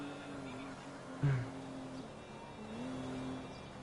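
A truck in the game GTA 5 rolls in with a steady engine drone and a brief louder burst as it arrives, heard at moderate distance without any talk.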